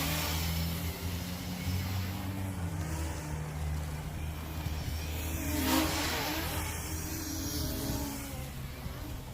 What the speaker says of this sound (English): It sounds like one of these motors are going bad.